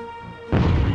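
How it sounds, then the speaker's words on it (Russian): A gunshot in the video game Hogs of War lands as a sudden heavy boom and crash halfway through, following a quieter stretch of tonal game music. "Ух, хороший выстрел."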